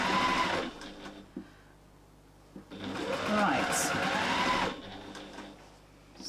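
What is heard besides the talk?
sewing machine stitching a quilt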